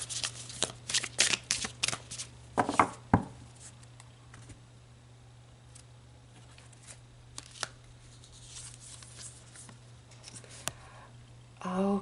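A deck of oracle cards being shuffled and drawn: dense riffling and sliding bursts at the start, then softer scattered card flicks and handling noises, ending with a short rustle.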